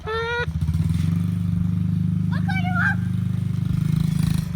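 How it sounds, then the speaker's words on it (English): A dirt bike runs in the snow with a steady, close engine drone throughout. Its low rumble holds even with slight surges, and a brief shout rises over it partway through. "Let's go put the dirt bike away. Right after I take a rip."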